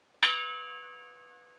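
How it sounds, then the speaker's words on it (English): A metal percussion object, gong- or gamelan-bell-like, struck once during a session with modular synthesizers and percussion; a single clear strike rings out with a long, steady, shimmering decay, heard alone. "Almost like a gong or something, or a little bell, like a gamelan bell."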